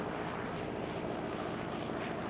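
A small single-engine airplane on a landing approach with full flaps, its engine a steady, loud, broadband drone heard from inside the cabin.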